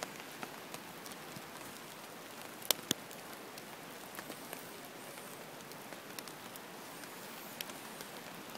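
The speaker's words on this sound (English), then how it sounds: "I'm getting soaked in the rain here." Rain patters steadily on surfaces at Capilano Suspension Bridge, a dense, even hiss with occasional sharper drops, and no voices.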